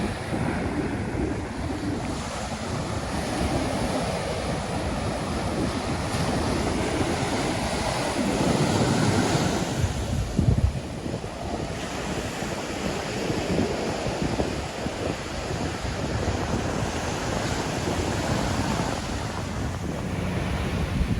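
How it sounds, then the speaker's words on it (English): Ocean waves roll in and break steadily on a beach at Sebastian Inlet, a constant surf roar mixed with gusty wind buffeting the microphone. "nice waves."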